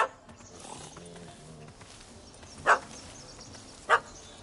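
In The Witcher, a dog barks at a cat up a tree: two sharp, loud barks ring out apart from each other over soft background sounds and movement.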